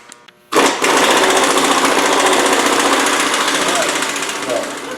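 Impact wrench loosening the rear sway bar nut on a 2016 Mustang with the tire off, a loud close rattling hammer burst that starts suddenly and runs steadily for several seconds.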